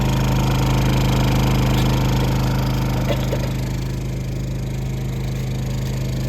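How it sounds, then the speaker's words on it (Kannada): A portable generator runs close by while travelling abroad, a steady low mechanical hum and drone with a constant tonal throb that holds at the same level throughout. "ಅದಕ್ಕೋಸ್ಕರ ನಾವು ಜನರೇಟರ್ ತಂದಿದ್ದೀವಿ ಈಗ ನೋಡಿ"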